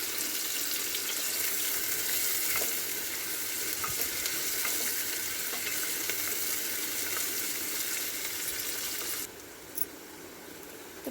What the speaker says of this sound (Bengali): এবার আমি লাল লাল করে পেঁয়াজ কুচিগুলো নেড়ে চেড়ে ভেজে নেব তেলের মধ্যে।